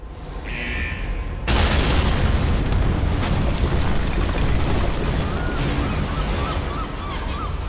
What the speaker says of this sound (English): When the round is won, the drilling derrick on the point breaks and causes an explosion and oil to spew into the air.